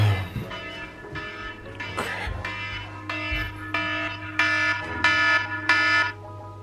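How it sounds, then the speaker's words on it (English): A phone or clock alarm plays repeating chime-like beeps in short bursts that grow steadily louder, heard indoors on a rainy day in Jamaica. "So you hear my alarm going off."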